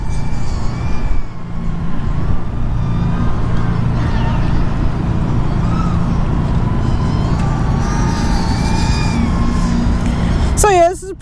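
FuriBee Stormer 220 FPV racing drone in flight, its motors producing a loud, continuous whine whose pitch glides up and down with throttle changes, ending in a sharp high chirp.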